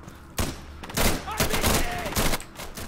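Gunfire in Insurgency, with several loud bursts and rapid shots cracking close by in clusters across the clip, and voices talking faintly underneath.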